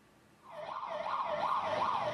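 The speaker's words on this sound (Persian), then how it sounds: "آژیر آمبولانس در دل شب در نوار غزه." An ambulance siren wails at night in the Gaza Strip, its rising and falling tone swelling in from quiet and holding loud and steady as the vehicle draws near.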